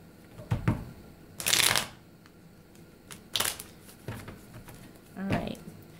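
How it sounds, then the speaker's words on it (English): Tarot cards are shuffled in several short, crisp riffling bursts, close and fairly loud, with pauses between each shuffle. "I'm having a hard time shuffling your cards"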